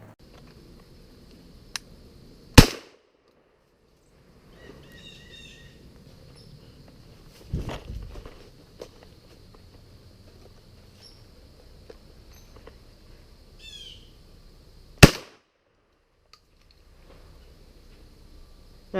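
Two sharp, loud gunshots from a squirrel-hunting rifle ring out in quiet woods by a small stream, spaced well apart, with light rustling and faint insect chirps between them.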